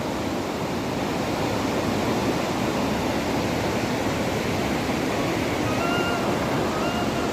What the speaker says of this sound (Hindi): ये देखिए आप, जो है नदी का बहाव हो रखा है बहुत ज़्यादा।